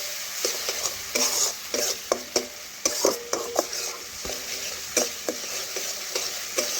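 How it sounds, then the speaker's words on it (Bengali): Spices being stirred and sautéed in a sizzling pan for a vegetarian dish, with a spoon scraping and tapping against the pan in uneven repeated strokes over a constant frying hiss, close by and without talk. "এইভাবে ভালোভাবে কষে নেব"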